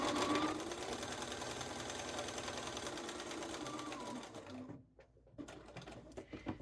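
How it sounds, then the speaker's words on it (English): A sewing machine stitches a seam in a rapid, even run of needle clatter. It stops briefly near the end, then restarts in short bursts. The machine is heard alone, with no voices. "you're just going to sew up one side and cross over with a couple stitches, and then sew down to the other side."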